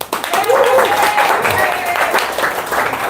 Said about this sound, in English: Round of applause, Marcin.